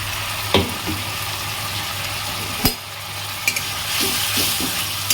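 Potatoes and green chillies frying in a pan while being stirred, a steady close sizzle with occasional scrapes and knocks of the spoon, and no one talking.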